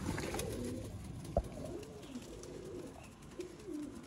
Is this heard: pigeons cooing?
yes